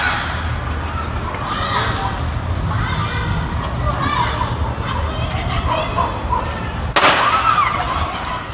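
A gunshot in a crime-scene audio recording played on a Rio Grande TV news program: one sharp, loud bang near the end stands out over a dense, noisy background of voices and clamor.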